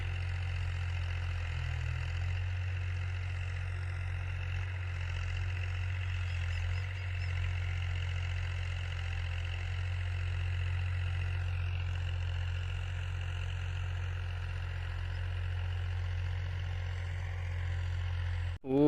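Farmtrac 35 tractor pulling a 7-tine plough in a field, its engine making a steady low drone that holds for the whole stretch with little change in loudness.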